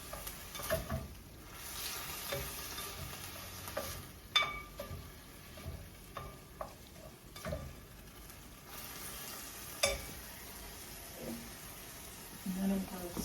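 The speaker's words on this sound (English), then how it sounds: "So I'm sauteing my peppers and onions." Peppers and onions sauté in a pan for lasagna, a faint sizzle broken by scattered spatula clicks and scrapes, with someone talking over it at close range.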